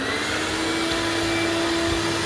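A shop vac runs at close range with a steady, loud motor whine and airflow roar that holds unchanged throughout, with no one speaking.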